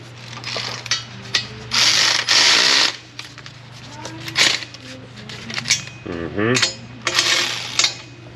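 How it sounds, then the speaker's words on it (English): A ratchet tightening exhaust manifold nuts on a Jeep YJ Wrangler 4.0, loud close bursts of rapid clicking in several separate runs with short pauses between them and brief mechanical clanks. "So I'm just going to go ahead and tighten those all down right now too."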